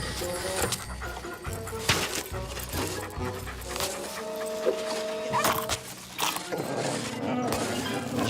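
A cartoon dog pants and whimpers in quick, breathy bursts over a busy, music-filled soundtrack with occasional clatter.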